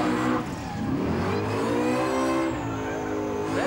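A car engine revs hard during a burnout elimination at a street-machine event, rising and falling in loud, continuous roaring pitch sweeps close to the microphone.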